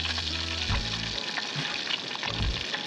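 Rock wrasse fish frying in a pan just after being flipped, giving a loud continuous hissing sizzle with a few low thuds, close up and without talk.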